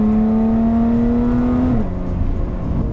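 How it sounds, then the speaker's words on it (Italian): A Lotus Evora 400 sports car engine with its exhaust valve open holds a loud, steady high rev, then drops sharply in pitch to a rough, burbling idle. "Era da tempo che non provavo una macchina così rumorosa"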